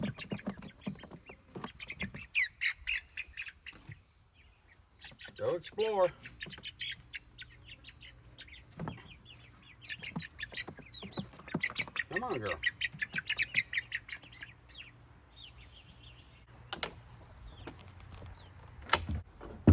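Chickens squawk and cluck in bursts inside a new coop built from pallets, with a person speaking softly between the calls and occasional rustling or door knocks.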